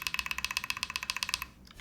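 Quick, even keystrokes on a Spectacle 80 top-mount mechanical keyboard, about twenty crisp clacks in a steady run that stops abruptly, close and clear with no voices.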